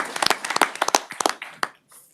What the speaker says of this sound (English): so we'll clap for him there too.